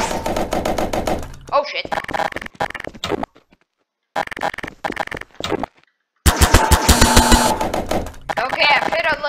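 Firecrackers from a cracker box explode at once in the game Garry's Mod, producing loud, rapid crackling bursts that stop and restart in several runs with brief silences between them. A voice mutters briefly amid the blasts.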